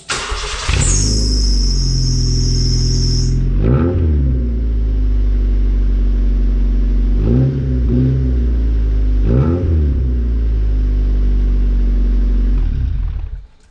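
A single-cam Honda Civic fitted with a sports exhaust starts up and settles into a loud, close idle, then three short throttle blips rise and fall in sequence before the engine cuts off.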